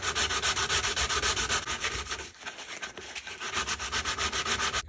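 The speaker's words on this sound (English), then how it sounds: "Let's sand her up. Just going to use a quick little 60 grit here." An old hatchet being sanded by hand with worn 60-grit sandpaper, close, rhythmic back-and-forth rasping strokes with a brief pause midway.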